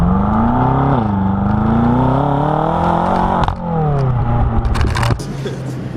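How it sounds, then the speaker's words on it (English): A BMW F10 M5 with a double-clutch transmission accelerates hard on back roads, its engine note climbing loud and close through the gears with rapid shifts and a steady high-revving roar. "We are tearing up some back roads at the moment and this thing is just so fast"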